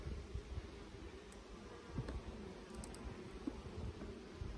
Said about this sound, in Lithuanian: Kol kas bitės labai ramios.